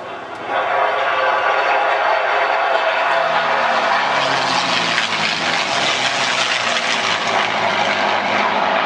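Propeller-driven warbirds, including a P-51 Mustang, flying a tight formation display at the Duxford Flying Legends airshow, producing a loud, steady engine drone that swells slightly as they pass, with no talk over it.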